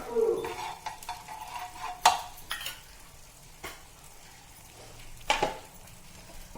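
Oil poured into a hot pan for a green mung bean breakfast dish, giving soft sizzling with a few sharp metallic clinks and scrapes of a utensil against the pan, close by.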